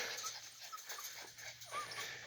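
Dogs penned in a fenced camping area whimper in faint, high, intermittent whines over a steady outdoor background hum.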